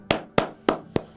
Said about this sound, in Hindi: इसने तालियां हो जाए भाई